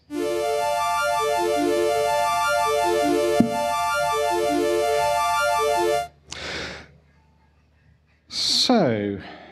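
A fast synthesizer arpeggio made in Ardour runs as a rapid stream of bright, buzzy notes for about six seconds and then cuts off, followed by brief breathy sounds and a short burst of talk.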